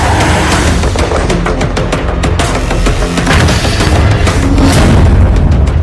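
War footage carries heavy booming explosions and bombardment, a dense, loud, continuous barrage of deep thuds with rapid sharp cracks throughout and no speech over it.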